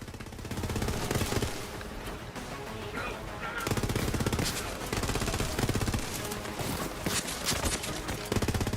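Gunfire in the video game Borderlands 3 comes as dense, rapid automatic bursts, loud and nearly continuous, with a brief lull partway through before the shooting resumes.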